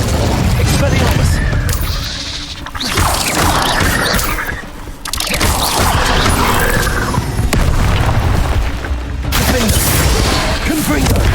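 Repeated Confringo and Incendio spell blasts in the Hogwarts Legacy video game, a near-continuous run of loud booming, crackling impacts with a brief lull in the middle, dense battle noise throughout.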